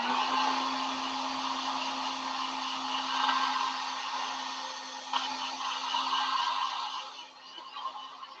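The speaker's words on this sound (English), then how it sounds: "Let's go ahead and use the heat tool again." Heat tool blowing hot air to dry paint on laser-cut Halloween candy corn and ghost pieces: a steady, loud, close whooshing airflow with a constant hum, running continuously with slight rises and a brief dip near the end.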